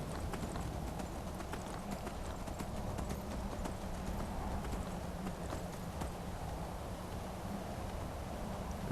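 Horse hooves clip-clopping in a steady, rapid rhythm while riding through Skyrim, loud and close, with an occasional whinny and no talking.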